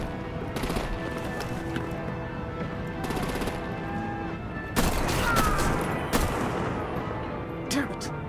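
Bursts of gunfire and heavy artillery-like blasts ring out in the Batman Telltale The Enemy Within video game, loudest in a sharp cluster midway, with game dialogue heard over the shooting.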